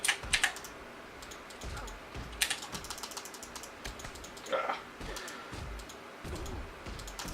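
A Corsair M65 Pro RGB gaming mouse gives sharp, close button clicks in irregular bursts, some quick doubles, over a faint room background with no speech.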